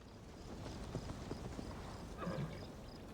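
A horse in the Assassin's Creed Valhalla video game, its hooves clip-clopping steadily at close range, with a short whinny near the end.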